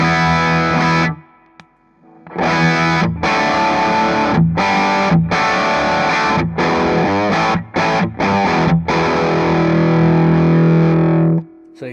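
Electric guitar played through a Warm Audio Throne of Tone overdrive pedal with the gain cranked: loud, saturated sustained chords and riffs with brief silent gaps between phrases, played alone.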